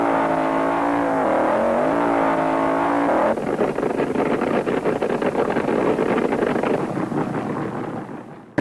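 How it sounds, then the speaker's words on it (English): A Mustang drag racing car in the early 1970s launches hard down the strip, a loud sustained engine roar that shifts to a rougher, rising rasp partway through, then begins to fade as it pulls away. "The Greer Mustang comes out of the hole on fire"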